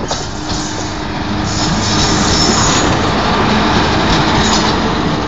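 A CNB WAP4 electric locomotive hauling the Ajmer Sealdah Express passes close by, a loud, continuous roar and rumble of wheels on rails that swells and holds steady, with faint squeals above.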